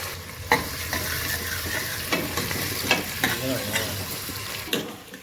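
Onions frying with ginger julienne and whole spices in a pan for an Indian mutton dish, a continuous sizzle broken by several sharp scrapes and stirs of a utensil.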